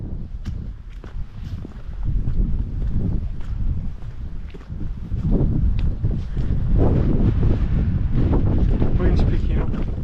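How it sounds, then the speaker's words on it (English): Gusty wind buffets the microphone on an exposed ascent of Moel Famau in Wales, a loud low rumble that swells and drops, with faint footsteps underneath. "Wind's picking up."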